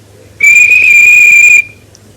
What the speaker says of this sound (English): The guard waved his flag and blew his whistle.